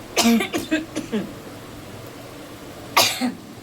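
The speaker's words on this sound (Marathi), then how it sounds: "खोकला आला." A quick run of four or five harsh coughs, a pause of quiet room tone, then one more cough, close and loud.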